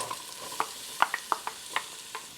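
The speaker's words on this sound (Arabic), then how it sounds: "رح أقلي البصل والثوم مع الزبدة" Chopped onion and garlic frying in butter, oil and chicken stock in a pot, a soft sizzle broken by several sharp clicks and taps of stirring, close and alone.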